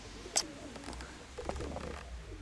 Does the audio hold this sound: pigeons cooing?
yes